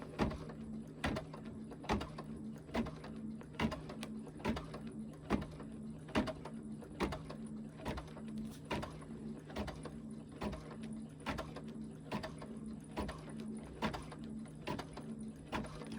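An embroidery machine stitching a snowman design slowly, producing an even run of sharp mechanical clicks and thumps at a steady rhythm of roughly one per second, close and clear with no talk.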